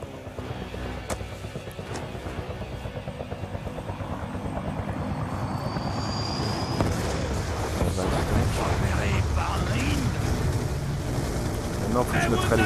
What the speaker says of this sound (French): Maintenant, faut que je neutralise l'hélicoptère.